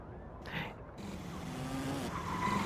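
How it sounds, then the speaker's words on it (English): City traffic of cars and motorcycles in the NBA 2K26 video game, a constant low rumble with engines whining and passing at middling distance, fairly quiet overall. "just all these cars and motorcycles, shut them off if you can"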